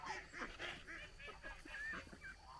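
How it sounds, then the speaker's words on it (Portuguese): Geese on a farm pond downhill give a faint, distant run of repeated honks in an uneven rhythm, with soft outdoor background noise. "Olha os gansos lá, ó. Tão vendo? Eles lá embaixo, ó."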